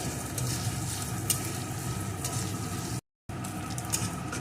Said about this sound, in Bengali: তেলটা গরম হয়ে গেছে এখন এর ভিতরে দিয়ে দেবো একটা পেঁয়াজ কুচি কয়েকটা চেরা কাঁচা লঙ্কা